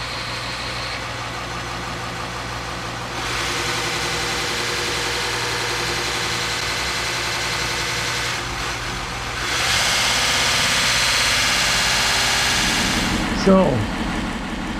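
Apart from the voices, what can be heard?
variable speed belt-driven machine running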